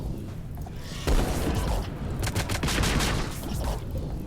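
Rapid gunfire in the RimWorld strategy game, a burst of overlapping shots crackling and booming without pause, loud and close, with a sniper rifle among the weapons firing.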